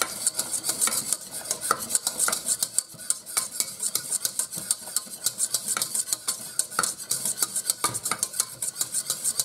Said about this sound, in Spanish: Aplicamos toda la leche. Está muy caliente. Y removemos para que no se hagan grumos